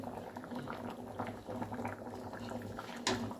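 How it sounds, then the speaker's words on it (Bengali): A pot of vegetable curry with soybean chunks and lentils bubbles at a steady boil, a soft continuous simmering burble close by, with a brief louder pop near the end. "তো চলো একটু ফুটুক তারপর নামিয়ে নেবো"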